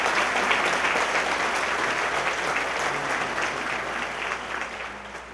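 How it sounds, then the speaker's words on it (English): Audience applause at a 2012 commencement ceremony for Upstate Medical University College of Health Professions, dense continuous clapping from a large crowd, loud at first and easing gradually. "let's give them a big round of applause"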